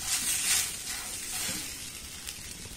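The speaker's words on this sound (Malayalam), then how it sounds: "ഇനി നന്നായിട്ടൊന്ന് നമുക്ക് മിക്സ് ചെയ്യണം." Green mango being stirred through in a hot pan, with a soft continuous sizzle and light scraping at moderate volume, steady throughout with no voices.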